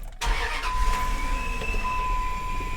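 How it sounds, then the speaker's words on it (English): A truck with no power and blinking check engine, brake and ABS lights starts up, a sharp burst followed by a steady running engine with a thin whine above it, close and fairly loud. "I'm going to start the car up."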